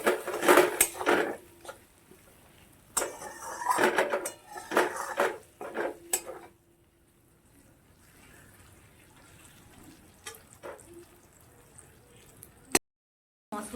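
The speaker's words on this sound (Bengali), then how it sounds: "আমি একে একে এবার পেঁয়াজটা দিয়ে দেবো। পেঁয়াজটা দিয়ে ভালো করে মিশিয়ে দেবো।" Onions stirred into spiced oil in a pan while cooking chicken kosha, with clattering spoon-against-pan scrapes in busy bursts, then quieter, sparser clinks and a faint sizzle.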